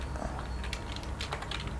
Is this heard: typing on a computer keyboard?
yes